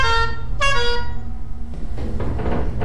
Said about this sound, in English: You honk at me.